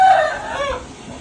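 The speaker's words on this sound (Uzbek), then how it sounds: "Ana xo'roz, mana xo'roz." A Japanese Shamo rooster crows nearby, a loud drawn-out call that starts strong, wavers and fades within about a second, with no voices over it.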